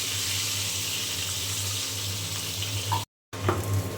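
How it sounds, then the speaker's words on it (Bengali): Eggs fry in hot oil with a constant, close sizzling hiss, briefly cut out for a moment before the crackle resumes. "তেল দিয়ে দিয়েছি, এখন আমি ডিম দিয়ে দেব। ডিমগুলা ভেজে নেব।"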